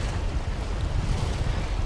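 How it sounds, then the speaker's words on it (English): Steady wind buffets the microphone over choppy waves breaking on Magaluf Beach in Majorca, a continuous low roar with no voices. "the wind has picked up as well"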